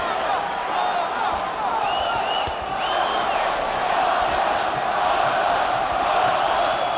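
Boxing crowd at Madison Square Garden during Miguel Cotto's fight, a dense roar that holds steady throughout with brief whoops and cheers rising out of it, though no distinct chant pattern stands out.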